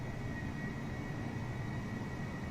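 Steady, continuous low drone of a light aeroplane, a broad rumble with a faint high tone running through it, even and unbroken with no talk.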